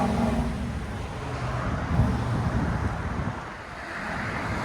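A Dodge Durango R/T with a 5.7L HEMI V8 and LCGP exhaust gives a steady, fairly loud low rumble that holds throughout, with some wind and road noise mixed in and no talking.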